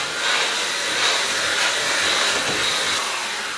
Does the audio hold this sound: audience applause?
no